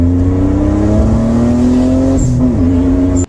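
A 1992 Mitsubishi GTO with a twin-turbo 3.0 V6 revs up close by, a loud, steady engine drone whose pitch climbs gradually for a few seconds before cutting off abruptly.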